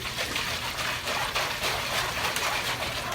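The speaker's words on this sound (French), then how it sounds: "Le vent est fort, il y a de grosses vagues sur la mer." Stormy sea with big waves driven by strong wind, a constant rushing, hissing roar of surf and spray that holds at an even, full level from start to finish.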